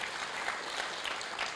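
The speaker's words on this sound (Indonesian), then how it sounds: "Berikan tepuk tangan yang meriah buat Tuhan." Congregation clapping during a sermon in a church, a dense steady wash of many hands at moderate volume, heard alone with no voices.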